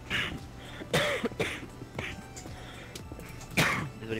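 A streamer coughs during a French Minecraft livestream, with a series of close, rough coughs and throat clearing spaced irregularly over a few seconds.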